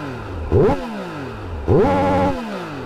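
A Triumph Speed Triple RR motorcycle engine blips twice in sharp revs, each climbing quickly and falling back to a lumpy idle, loud and close with no voices.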